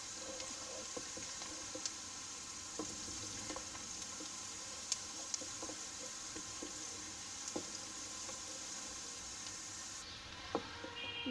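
Onions fry in a pan toward light golden brown, giving a quiet steady sizzle with scattered soft clicks of stirring, faint and continuous.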